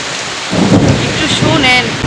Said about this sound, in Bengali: একটু শুনেন, কি জোরে একটা বজ্রপাত হইল।